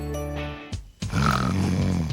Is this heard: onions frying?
no